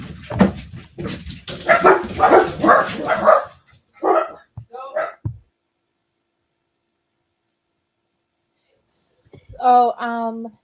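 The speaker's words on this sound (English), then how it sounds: "Had a dog make a noise, and the rest of them didn't know it was the dog, so they all took off barking." A dog gives short barks and yelps mixed in with a person talking, then a brief harmonic yip sounds alone after a stretch of silence.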